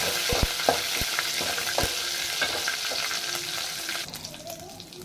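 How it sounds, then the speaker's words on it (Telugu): Cashew nuts frying in hot oil give a steady, close sizzle with a few sharp clinks of stirring early on, easing slightly toward the end. "ఈ ఆయిల్లో కొంచెం జీడిపప్పు వేసుకుంటున్నాను"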